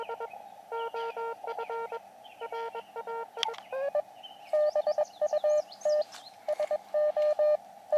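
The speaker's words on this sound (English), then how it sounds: "do you hear how his Morse is choppy? It's like da-da-da-da-da-da-da-da. It's not consistent." Morse code tones from an Elecraft KX2 portable radio on the 40-meter band, with choppy, uneven keying of dits and dahs that stops and starts, with a few chirpy interfering signals.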